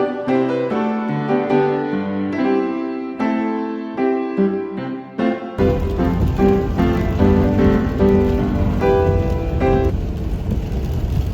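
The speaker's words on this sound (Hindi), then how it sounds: "अब यहाँ पर फिर स्नोफॉल ख़त्म हो गया, फिर से बारिश शुरू हो गई है" Melodic music plays throughout, and partway through a steady, dense hiss of falling rain joins in beneath it.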